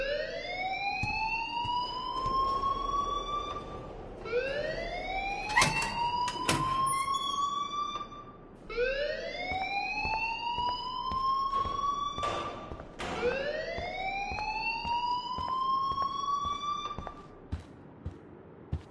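A wailing siren-style alarm in the video game Life Is Strange, four rising sweeps repeating every few seconds, loud and close, with faint clatter underneath.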